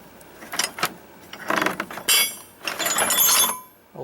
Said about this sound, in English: Lug wrench from the old days.